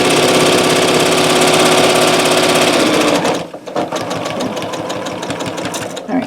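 A sewing machine stitches the corner of a minky quilt, running loud and steady for about three seconds, then slowing into a series of separate, closely spaced needle strokes.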